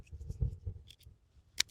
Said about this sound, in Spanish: Voy a terminar de pelar bien lo que es la cuchara.